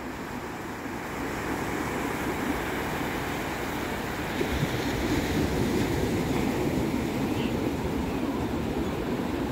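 Small, flat breakers washing onto a beach, a steady broadband wash of surf that swells slightly midway and holds on, fairly close and continuous with no talking.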